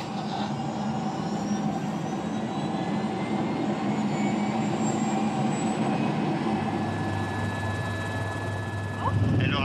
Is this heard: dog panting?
no